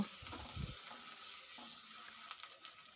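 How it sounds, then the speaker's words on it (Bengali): Onion and garlic paste frying in a pan, a soft steady sizzle with a few low clattering stirs near the start and faint crackles later on, quiet and close, with no talking. "পেঁয়াজ আর রসুনের রসুন বাটাটা আমি ব্রাউন করে ভেজে নেব"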